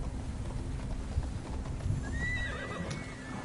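Horse hooves clip-clop under a whinnying neigh in the video game Immortals Fenyx Rising, played on PS5, with a steady bed of game music and ambience and no talk.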